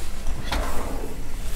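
A cutlery drawer in a motorhome on a show floor gives one quick, quiet slide and knock midway, set against a soft, steady background hum.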